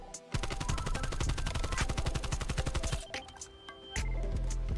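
Rapid automatic AK-74U fire in Black Ops Cold War, shot at long range: a dense, steady stream of loud cracks for about three seconds, then scattered lighter game sounds and a few heavier thumps.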